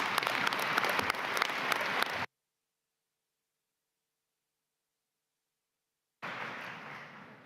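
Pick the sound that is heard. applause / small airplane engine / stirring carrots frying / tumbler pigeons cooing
applause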